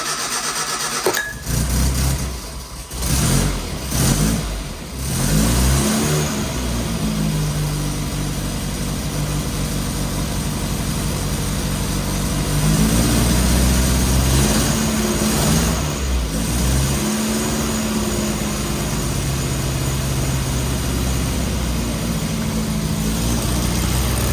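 948cc A-Series engine cranking and catching with the choke pulled, then settling into a loud, steady idle with slight rises and dips in speed, close up and continuous.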